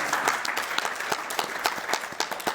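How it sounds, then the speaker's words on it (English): An audience at a women's launch event claps in a brief, moderately loud round of applause, with sharp individual claps standing out from the steady patter. "let's give her a round of applause"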